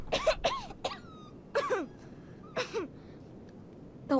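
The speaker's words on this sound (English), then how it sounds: "He needs that cough looking at." A young character coughs in Life is Strange 2, several short, rough hacking fits broken by pauses, close and fairly quiet against a soft room background.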